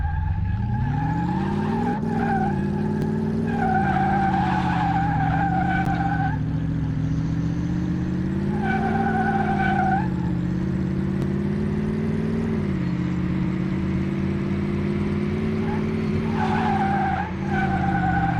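A car in Car Mechanic Simulator 2018 driving around an abandoned airport on a test drive, steady engine drone rising and falling with repeated long tire squeals and skids, loud and continuous with no talking.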